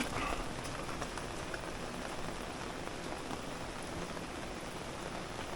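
Steady rain patters and hisses continuously, a dense even wash of drops with no voices.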